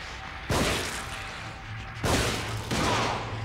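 Enemy gunfire in the horror game The Evil Within: three loud, close blasts, each with a long noisy decay, spaced irregularly over a low background hum.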